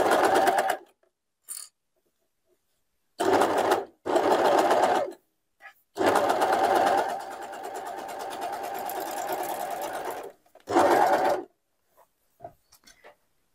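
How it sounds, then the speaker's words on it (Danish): A sewing machine runs through several short bursts and one longer steady stretch as it sews the inner leg seam of a pair of boxer shorts, with near silence between the runs. "Så nu har vi sømmen syet her, den indre bensøm"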